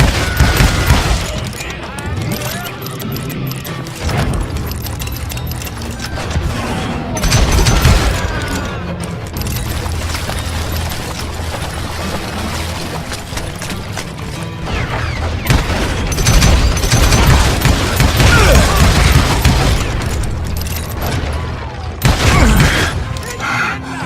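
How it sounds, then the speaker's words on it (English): Gunfire fusillades ring out in the Western shooter Call of Juarez: Gunslinger, with dense volleys of shots and booms throughout. A narrator speaks over the constant firing. "a fusillade of bullets come raining down from on high"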